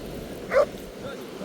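A dog gives a single short bark or yip partway off at a rocky beach where seals rest, heard over steady wind and outdoor background noise.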